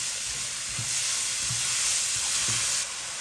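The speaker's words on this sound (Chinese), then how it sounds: "加入胡萝卜丁、洋葱丁、香菇丁，再大火翻炒，炒至断生，炒出香味儿" Diced carrot, onion and shiitake mushroom stir-fried over high heat, a continuous close sizzle with rhythmic spatula scrapes roughly every half second, the hiss dropping slightly near the end.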